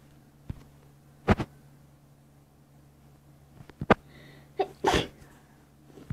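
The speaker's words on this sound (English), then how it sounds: "Sorry about that, that was me sneezing." A sneeze bursts out sharply in a quiet indoor room, with a few other short close noises before and after it and no talk.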